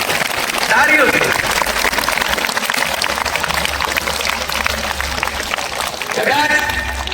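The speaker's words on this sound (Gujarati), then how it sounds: "તાળીઓ થઈ જાય છે." Audience applauding at a school event at IQRA English Medium School Chadotar, a dense, sustained clatter of many hands filling the room, with voices mixed in.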